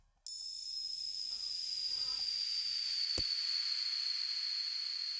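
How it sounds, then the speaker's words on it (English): A synthesized falling-bomb tone built from a two-voice sine wave whistles steadily and gradually descends in pitch, loud and alone after a sudden start, with a brief sharp click partway through. "I actually synthesized the sound of like a nuke falling"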